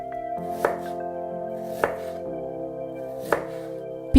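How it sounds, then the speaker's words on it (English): A knife slices ginger on a cutting board in three distinct, well-spaced chops, each a sharp close thud, with a steady low hum underneath. "Cut 4 slices of ginger."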